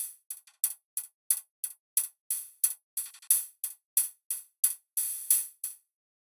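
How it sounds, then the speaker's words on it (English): Synthesized hi-hat made from a sine wave run through a vocoder, part of a track built entirely from one sine-wave sample: a steady, fast rhythm of about twenty crisp, bright ticks with a few longer open-hat hits, close and alone without voices. "this is where the hat sound comes in through this vocoder"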